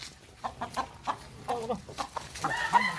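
A chicken clucks in a series of short, repeated calls, fairly close and moderately loud, with a brief rooster-like note near the end.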